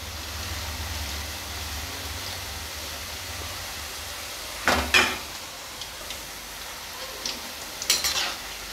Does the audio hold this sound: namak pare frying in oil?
yes